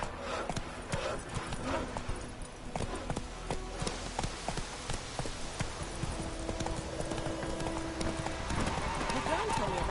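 Clip-clop of Roach, a horse in the Witcher 3 game, galloping with steady repeated hoofbeats under a dense game soundscape, with voices talking and an occasional whinny.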